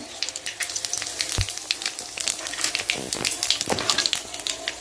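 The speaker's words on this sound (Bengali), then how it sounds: "দুটো তেজপাতা দিয়ে দিলাম কালো জিরা ফোড়ন" Bay leaves and nigella seeds tempering in a generous amount of hot oil, a steady close crackling sizzle with scattered pops and a few sharper spits throughout.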